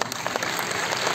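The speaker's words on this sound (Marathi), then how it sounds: "जोरदार टाळ्या वाजवून" Loud, sustained clapping from a theatre audience at a drama performance, a dense crowd applause filling the short moment with no speech.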